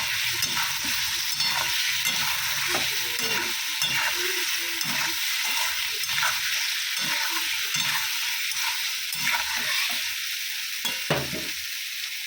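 Cubes of paneer frying in hot oil seasoned with kalo jeere and dried red chilli, a steady bright sizzle broken by repeated scrapes and knocks of a spoon stirring the pan, close and continuous with no talking.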